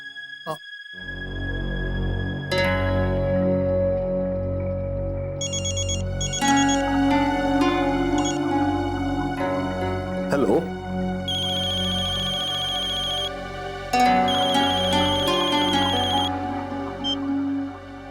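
An electronic phone ringtone plays a repeating melodic pattern, loud and close, continuing for several seconds.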